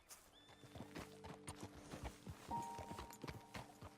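Horses walk at a steady clip-clop pace in Red Dead Redemption 2, hooves thudding in an even rhythm with a brief whinny-like tone and soft game ambience, no speech.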